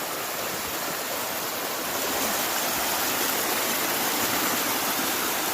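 A waterfall pours steadily over quartz rock, its broad rushing roar constant and close throughout with no voices.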